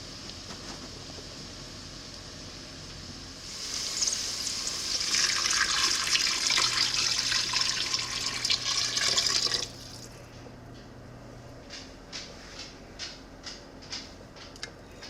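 Kitchen tap water pours steadily into a soup pot for about six seconds with a bright hiss, then cuts off, leaving quieter drips and clinks.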